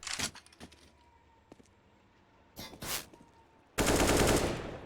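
Bursts of gunfire from a Counter-Strike match on the map Train, with single sharp shots early on, a rapid cluster near the middle and a loud sustained volley at the end, close and forceful.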